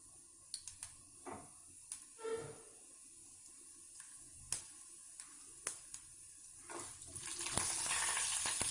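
Quiet oil sizzle as mustard seeds, urad dal and cumin fry, with scattered sharp pops and crackles, building to a denser, louder hiss of frying near the end.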